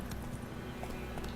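Geralt's horse Roach galloping in The Witcher 3, a faint, steady rhythmic hoof clatter under a low background hum.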